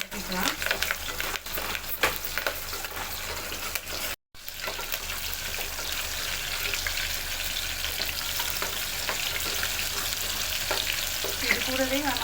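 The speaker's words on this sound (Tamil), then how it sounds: "அதையும் சேர்த்து நல்லா வதக்கிக்கலாம்." Onion, garlic and curry leaves sauté in a hot pan with a steady close crackling sizzle and occasional stirring scrapes, with one brief dropout partway through.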